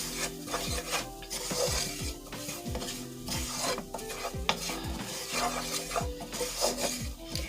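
A nutritional yeast sauce for vegan mac and cheese being mixed in a pot, with rhythmic scraping and swishing strokes under a faint sizzle, close and moderately loud, with no voices.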